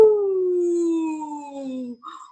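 A storyteller's voice imitates howling wind, a long, loud, gliding tone that slowly falls in pitch over about two seconds, then a brief softer vocal sound at the end.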